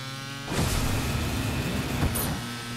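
A car driving in the Fortnite video game, its engine rising in a steady hum that swells after a brief quiet start and carries on with shifting tone, without voices.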